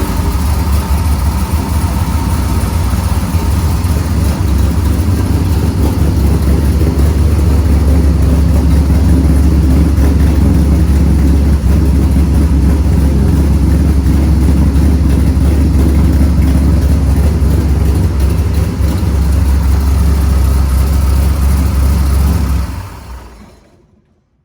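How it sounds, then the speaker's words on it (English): An ERA 427 Cobra with a fuel-injected engine idles after a cold start inside a closed garage, a loud, steady, deep rumble that holds evenly for over twenty seconds before cutting off abruptly. "So that's a cold start."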